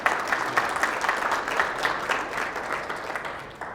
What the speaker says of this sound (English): Give Jim a round of applause for joining us.